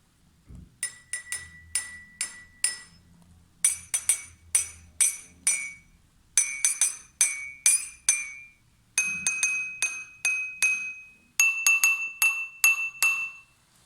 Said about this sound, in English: knocking on each of the glasses slightly to listen to the different sounds they make